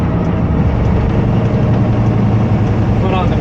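A semi truck with an 18-speed manual transmission revs as throttle comes back on after double clutching, a steady, close, low diesel rumble with someone talking over it.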